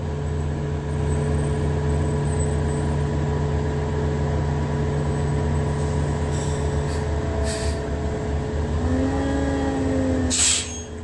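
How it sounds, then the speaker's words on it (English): A city dumpster truck passes on an Ontario street, its engine a steady heavy rumble with tonal drone, punctuated near the end by several short hissing bursts of air brakes, with no one speaking. "City of Ontario, crossing path again with the dumpster truck."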